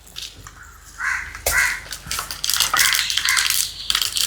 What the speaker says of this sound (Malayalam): വെളിച്ചെണ്ണ ചൂടായി കഴിഞ്ഞാ കടുകിട,